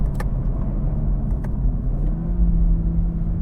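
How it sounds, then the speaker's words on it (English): Engine of a 2020 Toyota A90 Supra heard from the cabin while driving, a loud, steady low rumble with a slight rise in pitch toward the end and no voices. "from factory, the car sounds pretty nice as well"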